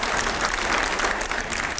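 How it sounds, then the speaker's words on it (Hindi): Loud, steady applause from a studio audience during a televised discussion show with editors and Mahmood Asad Madani, dense continuous clapping filling the whole moment with no talk over it. "पहले जोरदार तालियां"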